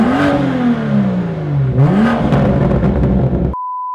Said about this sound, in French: grosse accélération.